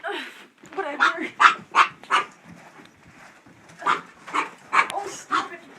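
A dog barks and whimpers indoors in two clusters of sharp, close yelps and whines separated by a short lull.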